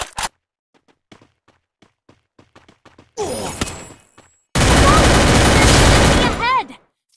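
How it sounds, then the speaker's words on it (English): Weapon fire in a mobile shooter game tutorial set on Bermuda, a loud sustained burst of gunfire with smaller clicks and a shorter burst before it, no voices over it. "Fire your weapon now!"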